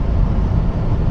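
Loud, steady low rumble of road and engine noise inside a moving car, a dense continuous drone with no voices.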